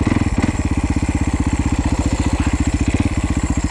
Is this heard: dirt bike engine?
yes